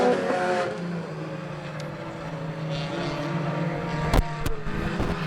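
Race cars roar around a dirt track in a continuous, fairly loud drone of engines, with a sharper burst near the end as cars pass close by.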